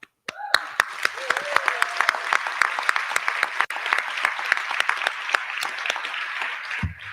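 Convention banquet audience applauding a pioneering executive director at a fundraiser, dense sustained clapping from a large crowd lasting several seconds, with a brief voice heard over it near the start.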